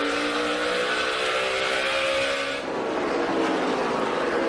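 NASCAR race cars roar past on the track, a loud, continuous engine scream that swells and shifts pitch as the cars go by at speed.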